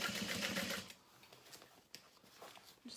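A sewing machine top stitching a zippered beauty bag, a fast steady whirring burst for about a second, then stopping and giving way to quieter handling noises.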